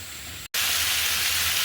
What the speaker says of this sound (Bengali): এবার আমি গাজর দিয়ে দিলাম গাজরও কিন্তু আমি হালকা ভেজে নিব